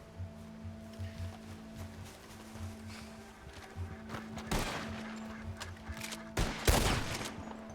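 Gunfire during a deer hunt in the Red Dead Redemption 2 game, two loud shots well apart against a low steady game backdrop with ambient hum, no talk over them.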